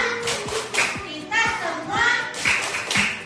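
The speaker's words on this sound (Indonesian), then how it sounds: "Kita tepuk hebat untuk kita semua" A group in a classroom claps a rhythmic 'tepuk hebat' pattern, with sharp, evenly spaced claps about twice a second, while voices chant loudly along with it.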